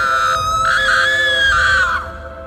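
A woman's sustained, piercing scream in a ghost story, loud and drawn out for about two seconds, tapering off at the end over a low background hum.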